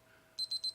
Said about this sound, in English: Hear the alarm, Sheila?